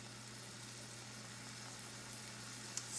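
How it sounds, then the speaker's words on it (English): Meat frying in a pan for nachos, a steady soft sizzle holding at an even low level throughout with a steady hum beneath and a brief tick near the end. "Let it cook for another minute or two to get the flavors permeating into the meat"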